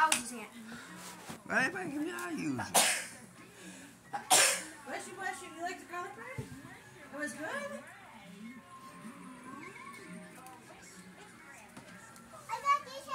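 A child sneezes sharply a couple of times in a home, loud bursts amid children's chatter and adult talk.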